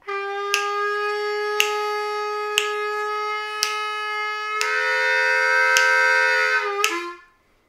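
A Bb harmonica plays a sustained, reedy lick, holding a clean note over steady clicks and then bending down to a lower draw note before it cuts off. It sounds alone, with no talking.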